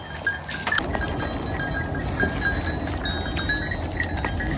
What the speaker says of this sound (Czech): Koukejte, jak ty kozy jsou rostomilý, ale zároveň ošklivý.